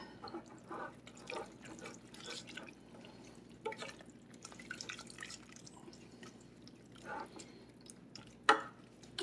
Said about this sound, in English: I'm just going to let that simmer another 5 or 10 minutes or so, let some of this liquid evaporate so it thickens back up again